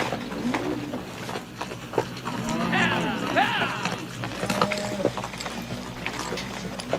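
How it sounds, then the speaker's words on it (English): A ridden horse clip-clops on a Western cowboy movie set, its hooves fairly soft and rhythmic beneath people talking, with occasional mechanical creaks and rattles mixed in. "That's a fine-looking horse you're riding."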